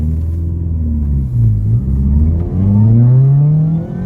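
A Fiat Punto fitted with an Eaton M62 supercharger accelerates, its engine note rising steadily in pitch through a gear, then dropping and climbing again, loud and close from inside the car.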